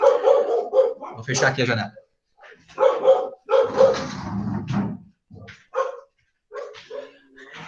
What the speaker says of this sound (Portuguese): Olha os meus cachorros aí, bem loucos.